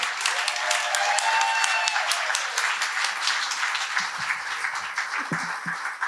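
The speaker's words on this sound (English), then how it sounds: "Let's give her a big round of applause for Lori." An audience gives a warm round of applause for Lori, a counselor and educator, as she comes up to tell her story at a storytelling event, with sustained clapping that thins slightly toward the close.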